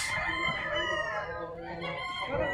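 A Raptor Sweater gamecock rooster from a game farm near Tagaytay crows loudly and close, one sustained harmonic call that fills the whole moment, with faint farm noise behind it.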